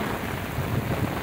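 Heavy rain pours down steadily during a rainstorm in the Agreste region of Pernambuco, Brazil, a dense even hiss with low rumbling underneath, no voices.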